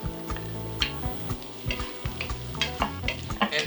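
Chopped onions, carrots and peppers sweat in a pan for a chicken curry, with bursts of scraping and sizzling from stirring over a steady, humming tonal background.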